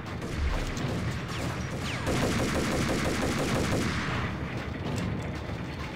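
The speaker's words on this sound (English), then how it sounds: "You're shooting at me." Gunfire aimed at the player in the Max Payne video game, a loud continuous barrage of rapid shots and heavy booms layered over crashing debris, without speech.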